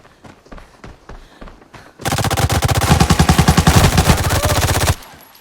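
Gunfire in the video game Arena Breakout: a few scattered single shots, then a loud, close burst of rapid automatic fire lasting about three seconds before it cuts off abruptly.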